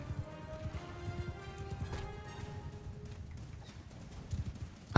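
Cavalry horses galloping in a Mount and Blade 2: Bannerlord battle, their hooves drumming in a steady, rapid clip-clop that runs throughout at a moderate level, with faint battle ambience behind it.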